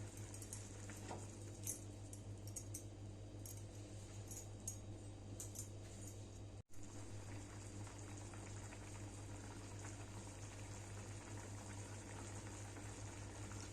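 A pot of mutton curry simmers and bubbles, making a faint, continuous low burble with small pops. One brief dropout occurs midway.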